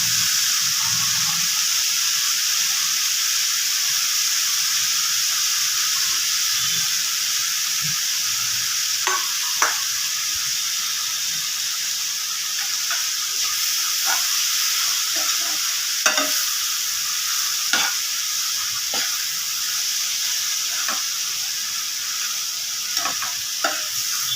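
Dried shrimp (jawla) frying in a tomato mixture gives a steady loud sizzle throughout, broken by repeated sharp scrapes and knocks of stirring spaced every second or two.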